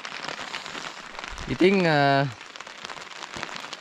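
Rain patters steadily on a tent at a campsite on Wangedigala during a thunderstorm, a close, even hiss that continues under a brief spoken word.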